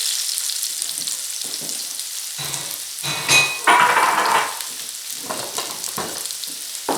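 Parsnips and carrots cut on the bias sizzle steadily as they caramelize in a pot, a broad close frying hiss with occasional stirring scrapes and light clinks of utensil against metal.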